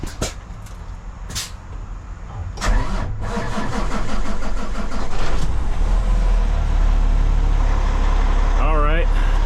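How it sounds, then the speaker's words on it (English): A truck engine cranks after a few clicks and thumps, then catches and settles into a steady, loud rumbling idle that runs on to the end; a voice is heard briefly near the close. "The truck turned on."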